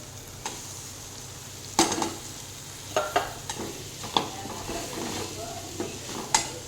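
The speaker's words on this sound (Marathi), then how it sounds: "आता यामध्ये मी वाफवलेली भाजी घालत आहे" Steamed khurasani wild greens are stirred into a sizzling mixture in a pan, with scattered clinks and scrapes of a spoon against metal over a low fry hiss.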